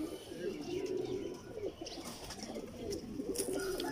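Pigeons of a prized breed cooing close by, soft, repeated low murmuring calls in short phrases with a few faint chirps in the background.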